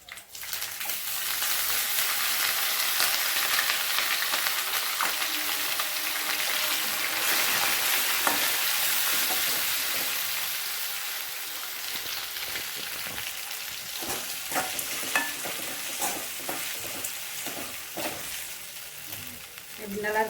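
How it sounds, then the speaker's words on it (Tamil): Sliced ginger dropped into hot oil with curry leaves and dried red chillies for ginger pickle, a loud, steady close-up sizzle and crackle that fades slightly toward the end. "இப்போ நம்ம இஞ்சி போட்டுக்கலாம்."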